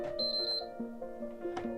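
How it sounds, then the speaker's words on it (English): A faulty PS4 console that won't turn on gives three short, high electronic error beeps in quick succession, close and fairly quiet, over a steady low electronic hum. "3 beeps."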